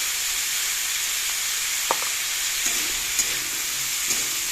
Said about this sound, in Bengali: আর এই সবজিটা আজকে আর সাদা তেল দিলাম না, সর্ষের তেল দিয়েই ভেজে নিলাম।